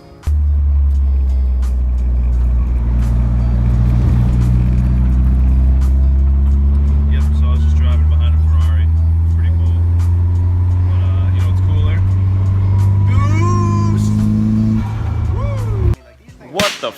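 Nissan 240SX S13 with a swapped SR20DET engine idling loud and close, its revs rising and falling in steady sweeps before cutting off near the end.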